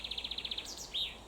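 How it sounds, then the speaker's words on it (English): Birds sing in a wood above a river in the Yorkshire Dales, with a quick run of bright repeated chirps followed by a couple of brief higher calls, fairly faint against a quiet background. "Plenty of bird life."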